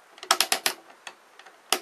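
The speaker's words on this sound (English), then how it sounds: "So ratcheted clicking joints." Ratcheting joints of a Transformers Classics/Henkei Megatron toy click in quick bursts, a cluster of sharp ratchet snaps followed by a few isolated clicks and a final pair, close and fairly loud with no talking.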